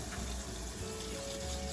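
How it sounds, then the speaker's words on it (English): Water poured into a turtle tank, a steady continuous splashing and gurgling stream, close and fairly quiet, with no voices over it. "I'm gonna pour some water in here."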